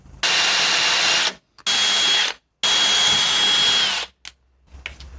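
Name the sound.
power drill drilling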